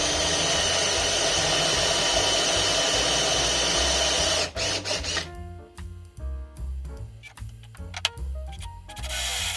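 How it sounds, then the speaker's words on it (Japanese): A drill bores holes in wood for stool reinforcement parts, a loud steady whirring grind for several seconds, then it stops, leaving scattered knocks and handling sounds. "補強部材を取り付ける穴を開けています。"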